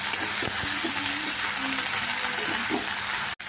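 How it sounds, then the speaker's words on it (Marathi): Okra sautéing in a pan with cumin and mustard seeds, a steady close hiss of frying with occasional stirring taps and scrapes, alone without any voices. "जिरे मोहरी टाकून भेंडी परतून घेतली ना तर चिकट पण होत नाही"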